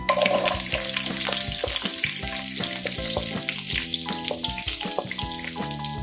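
Mustard seeds and garlic fry in hot sesame oil for a Kerala gooseberry pickle, giving a steady sizzling crackle. Tonal background music plays throughout, and there is no speech.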